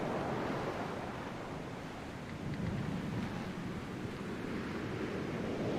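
In the video game The Pale Beyond, ocean waves surge around a ship at the wheel as a dense, steady roar of surf and wind with a slow swell and no speech.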